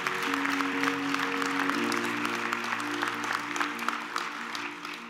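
Applause from an audience at a sports hall of fame ceremony, a steady loud crackle of many hands running the whole stretch, with a sustained tone held underneath.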